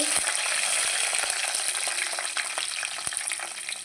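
Curry leaves, green chillies and cumin seeds fry steadily in hot oil for a vegetable pulusu, a bright continuous sizzle with scattered pops and crackles throughout, close and fairly loud with no talking.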